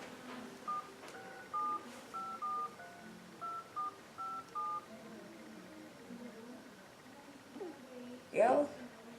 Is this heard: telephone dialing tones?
yes